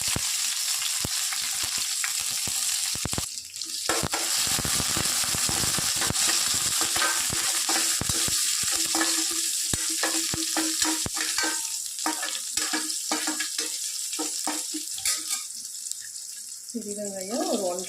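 Cumin, mustard seeds and crushed garlic fry in hot oil in a pan for beetroot sambar, making a loud continuous sizzle broken by frequent scraping and stirring clatter, with a brief voice near the end.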